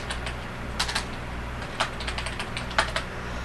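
Rapid keystrokes on a computer keyboard while entering C# code, a close, steady patter of clicks with a few louder key hits standing out, no talking.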